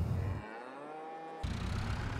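Cattle in the Farming Simulator 22 video game let out a long, steady moo lasting about a second, fairly close and clear over a constant low farm-machine hum.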